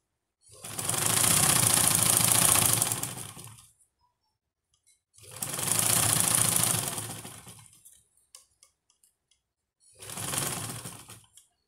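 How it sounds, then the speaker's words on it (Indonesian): A sewing machine runs in three bursts, stitching stretched elastic onto a fabric bed sheet; two long runs of a few seconds each, then a shorter one, separated by near silence. "lalu kita jahit dengan ditarik karetnya teman-teman"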